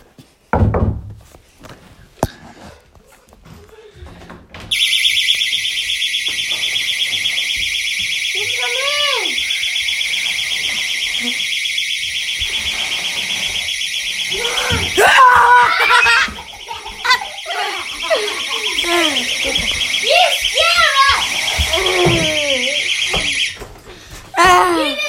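An alarm rings loudly and continuously for about twenty seconds, a steady electronic tone that starts abruptly and cuts off near the end, with people talking and laughing over it throughout.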